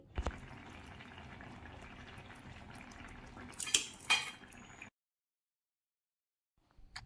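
Sardine fish aviyal in a pot, swirled or gently mixed with a spoon: close metallic scraping and clinks against the pan over a low bubbling hiss, then abrupt silence for the last couple of seconds.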